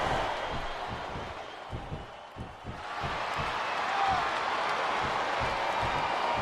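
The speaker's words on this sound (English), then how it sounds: "This capacity crowd is making their opinions known tonight." Large arena crowd roaring and cheering throughout a ladder match in WWE SmackDown vs. Raw 2008, a dense steady wash of noise with rhythmic thumps underneath, swelling louder in the second half.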